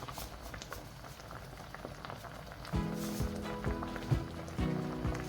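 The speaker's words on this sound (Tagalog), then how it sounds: "Yan lang natin kumulo." Tilapia and kangkong simmering in coconut milk, a low bubbling boil that swells noticeably louder partway through into a busy, close gurgle, with faint background music underneath.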